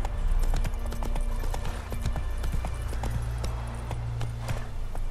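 Roach, a horse in The Witcher 3 during a hunt for the Beast of White Orchard, gallops in a steady rhythmic clip-clop of hooves, close and fairly loud over a low rumbling game ambience.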